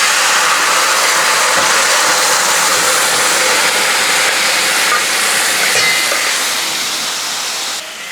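Hot tempering hits tomato curry in a pressure cooker, a loud, continuous broadband sizzle that holds steady for several seconds before easing slightly at the end.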